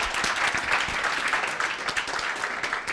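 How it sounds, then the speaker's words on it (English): Applause from an audience following a team's presentation at a 2016 presentations event, steady dense clapping throughout, fairly near and moderately loud, with no talk over it. "can we get a big round of applause for Vesta?"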